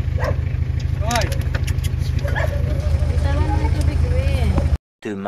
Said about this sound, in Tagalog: Dala ko yung aso ko.